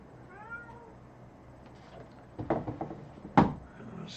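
Cat meowing indoors: a faint, thin meow early on, then louder, closer meows and a few soft knocks like a cupboard or drawer, with one sharp clatter.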